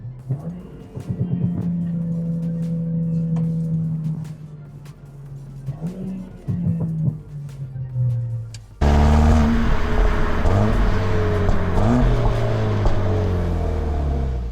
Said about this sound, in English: Downshifts, they're also very quick and can be very loud.